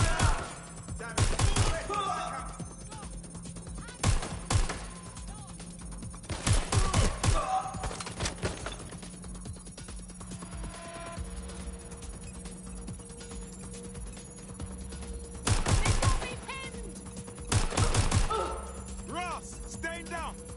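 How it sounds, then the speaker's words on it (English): Gunfire in the Watch Dogs video game comes in several loud bursts of rapid shots separated by quieter stretches, with a steady low hum underneath. "Shots fired. Incoming fire."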